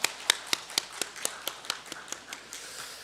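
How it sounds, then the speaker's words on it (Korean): A church congregation at a Sunday worship service claps for the children: a quiet run of about a dozen sharp, evenly spaced claps that fade slightly toward the end in a reverberant room. "다시 한번 아이들에게 축복하면서 박수 한번 하겠습니다."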